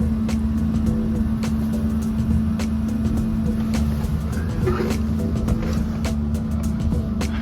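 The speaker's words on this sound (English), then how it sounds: "Decided to motor just as a test." A sailboat's auxiliary motor runs at about 4 knots in stormy weather. It gives a steady, loud engine drone with a constant hum throughout, and faint clicks and knocks sit on top.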